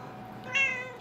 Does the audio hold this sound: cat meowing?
yes